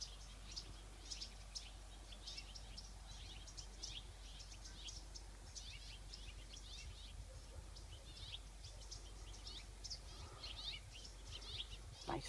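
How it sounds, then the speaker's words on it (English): Neighborhood birds chirp in quick, high, scattered calls near tall redwoods, faint and fairly distant, over a low steady hum and with no one talking. "Neighborhood birds."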